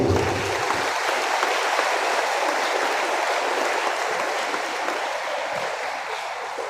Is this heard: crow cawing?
no